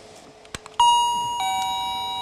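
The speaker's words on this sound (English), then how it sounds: "I have a new doorbell." A couple of small taps, then a bright electronic two-tone doorbell chime rings out clearly, each tone sustaining and slowly fading.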